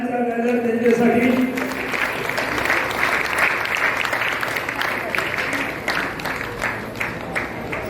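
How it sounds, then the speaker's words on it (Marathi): Loud applause from a crowd at a bhajan competition prize ceremony at Shree Saibaba Temple, Borim, honouring the Shree Bhagavati Chimbalkari Bhajani Mandal, with dense sustained clapping that swells early and continues steadily, a voice briefly heard at the start. "जोरदार टाळ्यांचा गजर त्यांच्यासाठी"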